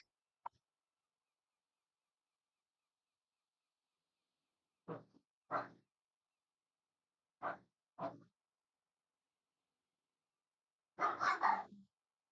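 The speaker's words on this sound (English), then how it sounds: "my dog is barking" A dog barks in a few separate bursts from another room, single and paired woofs spaced seconds apart, ending in a quick cluster, muffled and faint against near silence.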